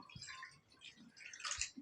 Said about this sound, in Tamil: என் தண்ணி ஊற்றிக்கிடுவோம்